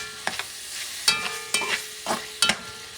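Chopped Vienna sausage mixture stirred in a pot, heard as about six distinct scraping, clattering spoon strokes at an irregular pace, each followed by a soft sizzle, fairly close and moderate in volume.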